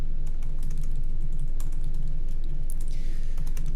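Fingers tap quickly and steadily on a computer keyboard, close by, with a dense run of soft clicks and a few louder key strikes over a low background hum; no one speaks.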